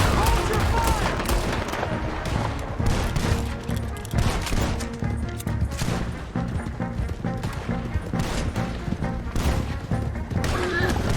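Gunfire in a Red Dead Redemption 2 shootout: dense, rapid overlapping shots and cracks without letup, with voices shouting underneath.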